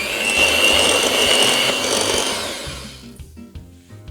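An electric mixer whirs loudly with a high steady whine while creaming butter with sugar and cocoa powder, then cuts off and gives way to a few light clinks and knocks.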